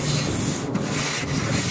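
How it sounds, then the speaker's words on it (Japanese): Steady abrasive scuffing of a rusty corrugated metal roof with a V90 abrasive pad, a continuous close, dense rasping with slight dips as the stroke changes direction. "V90 の片面でサビのきついところをこするのも効果的"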